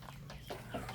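Chickens of the lawa harian breed clucking close by, soft overlapping calls in a steady farmyard murmur with no talk over them.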